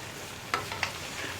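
Schezwan noodles tossed from bottom to top with a fork or spatula in a hot pan, two quick scraping strokes over a soft, steady sizzle, close and fairly quiet.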